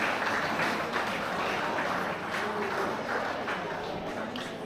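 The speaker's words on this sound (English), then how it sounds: "please join me once again in congratulating with a round of applause these founding members of the Italian Historical Society" At a 10th anniversary gala dinner, guests applaud the founding members of the Italian Historical Society with a steady, even wash of clapping heard from some distance in a large room.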